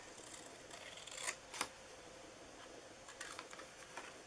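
Scissors snip paper while a sports-themed birthday card is being made, giving a few faint, crisp cuts in quick clusters against a quiet room.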